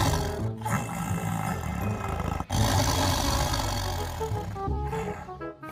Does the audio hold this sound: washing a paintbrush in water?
no